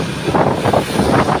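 Strong wind buffets the microphone while riding slowly through the streets of Pinrang, South Sulawesi, a loud continuous rumbling roar with gusting swells and no voices.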